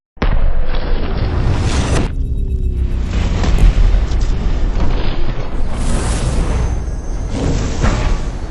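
.50 caliber rifle fire at AR500 steel armor plates outdoors, heard as a very loud, sharp blast that starts abruptly and then rings into a long, rumbling roar with booming echoes.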